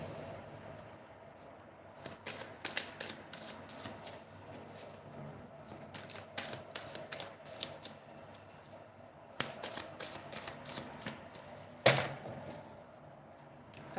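Tarot cards riffle and snap in rapid, crisp shuffles up close, with bursts of flicking and a few sharper slaps between quieter pauses.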